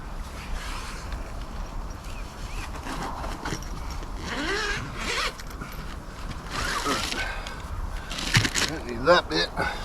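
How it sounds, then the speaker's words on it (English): A zipper on a pocket is worked open in several short rasping pulls, close by, with rustling and a voice speaking over parts of it. "So the zipper part that I needed on that pocket is right at the bottom"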